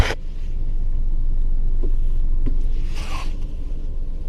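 A car engine idles and revs gently as a learner driver eases onto the accelerator, with a steady near rumble, a few small clicks, and a brief louder hiss-like swell near the end.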